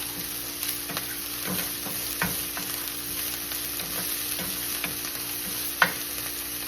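Chicken with green onion fries steadily in a pan, a constant broadband sizzle with scattered soft stirring scrapes and one sharper clack near the end, no voices.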